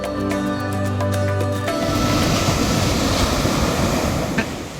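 Loud, steady Atlantic Ocean surf roars close by in January on a Florida island shore as waves wash in continuously, following a brief stretch of tonal humming at the start.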